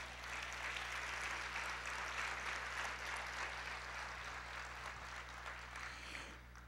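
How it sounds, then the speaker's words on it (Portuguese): Steady congregational applause in a church service, a soft, continuous wash of clapping heard at a distance over a constant low electrical hum, with no talking. "Vamos aplaudir ao Senhor"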